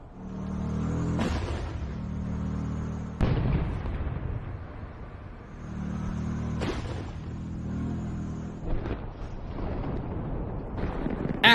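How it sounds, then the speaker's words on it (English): Ukrainian tank fire striking Russian tanks, which explode: heavy booming blasts land in sequence, each a sharp broadband burst that decays into low rumble, with sustained engine-like roar and wind buffeting between impacts. "The Russian tanks explode."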